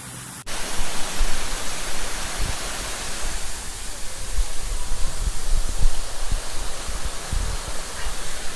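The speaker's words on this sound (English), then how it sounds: "You can see the little waterfalls." Small waterfalls in Shirotori Japanese garden in Nagoya, a steady broadband rush of falling water with soft splashing, fairly close and continuous with no voices.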